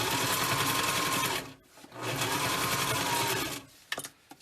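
A sewing machine stitches back and forth across a fabric face mask in two steady bursts of rapid mechanical whirring, close up, separated by a short pause and followed by a few light clicks.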